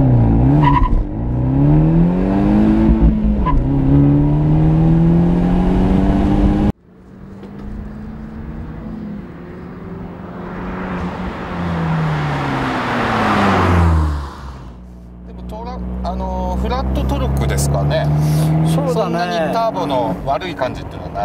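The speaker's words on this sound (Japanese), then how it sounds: "さあ0、100キロ加速ですよ" A sports car's engine revs and pulls hard through a full-throttle run from standstill to 100 km/h, up close and loud, with rising tones and gear changes, while two people talk over it.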